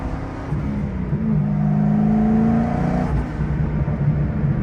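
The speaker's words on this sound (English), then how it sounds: "It's uncommon to hear a C6 with these kind of sounds." A Chevrolet Corvette C6 engine drones steadily while the car drives, its tone rising slightly as it revs partway through. It stays close and even from start to finish, with no talking.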